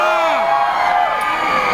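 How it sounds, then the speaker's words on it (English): A concert crowd of women cheers "yeah" together in one loud, sustained whoop that fills the space, with a voice heard at the start. "So all of the women in the crowd just went, yeah!"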